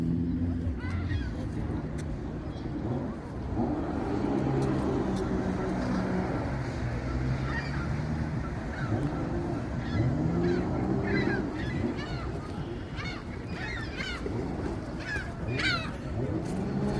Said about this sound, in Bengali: বিশেষ সৌন্দর্য হলো এই হাঁসগুলো